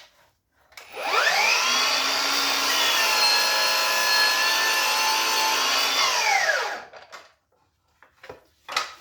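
A miter saw spins up, cuts through wood at full depth in one sustained whining, buzzing pass, then winds down, loud and close, with brief handling knocks afterward.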